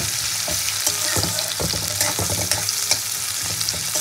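Chopped onion fries in oil for potol kosha, a dense, continuous sizzle up close with scattered scraping stir strokes and small pops throughout, nobody talking.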